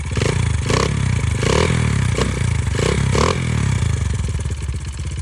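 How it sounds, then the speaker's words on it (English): A Honda XR100 dirt bike with stock bore, stock cam and tuned jetting runs steadily at idle, a loud, close, even chugging drone with light mechanical clatter throughout. "I'll fire it up. It sounds good. It runs pretty good."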